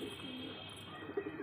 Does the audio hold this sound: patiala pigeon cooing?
yes